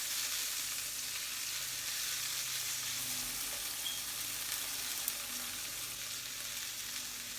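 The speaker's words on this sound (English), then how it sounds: "Frying capers off is such a, it has a really nice aroma" Capers fry in a hot pan with a steady, even sizzle that holds at one level from start to finish, close and fairly loud, with no talking.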